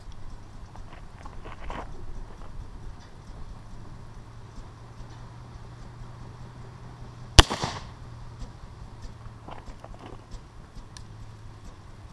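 A single sharp gunshot from a smooth-bore gun firing a conical bullet, one crisp crack with a short echo standing out from a quiet outdoor background.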